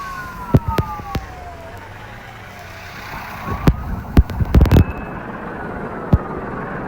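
A fire engine siren in a tractor video game wails in falling and rising tones, punctuated by sharp clicks and thumps that cluster near the end.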